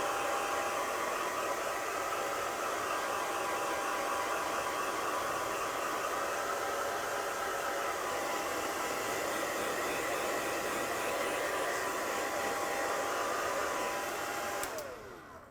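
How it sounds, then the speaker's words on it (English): A hair dryer set on low and warm blows steadily over a polymer letterpress plate, an even, moderately faint whooshing hiss that runs alone for most of the stretch before clicking off at the end. "And I'm going to dry with the hair dryer my plate until it is very dry."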